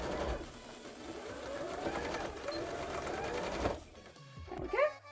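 Sewing machine stitching down a cuff on cosplay pumpkin shorts, one steady whirring run of a few seconds that stops abruptly, followed by soft handling noises, close by.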